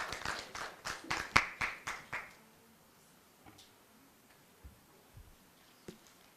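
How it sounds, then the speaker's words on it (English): A small audience at a sexual and reproductive health event claps for an arriving guest: a short run of about eight distinct claps, then a faint quiet room with a few scattered isolated claps or taps. "Let's clap for Dr. Mutumba as he makes his way here."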